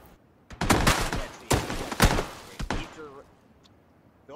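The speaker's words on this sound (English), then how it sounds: "Where's he shooting me from?" Enemy gunfire in a first-person shooter video game, a handful of sharp close shots in quick succession, followed by quieter game sounds.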